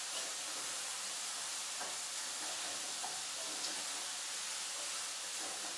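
Chickpeas and tomato simmering in a pan, a steady soft sizzle and bubbling hiss that holds evenly throughout, close up and uninterrupted.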